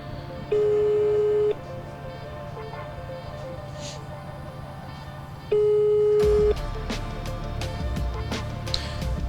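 Two long, steady electronic ringback tones on an unanswered telephone call to a residential building, each lasting about a second and spaced several seconds apart, heard clearly over a background hum with no talking.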